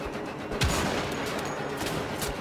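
Enemy soldiers firing guns in the video game Wolfenstein: The Old Blood, a burst of several rapid shots and crackling gunfire in quick succession, fairly close, with no talk.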